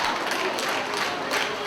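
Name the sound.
wrestling crowd cheering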